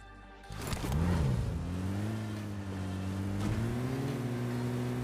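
A vehicle in the PUBG video game starts up and pulls away, its engine rising in a quick revving swoop and then settling into a steady, fairly loud drone.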